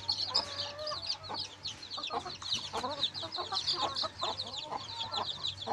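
Hybrid hens clucking and newly hatched chicks peeping continuously close by on a small farm, a busy overlapping chorus of soft chirps and clucks with no speech.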